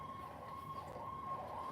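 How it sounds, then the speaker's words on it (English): A distant emergency siren, police or ambulance, drifts steadily through a residential neighborhood, faint and continuous with a slowly wavering tone. "Wouldn't be my neighborhood if you couldn't hear the police sirens or the ambulance sirens."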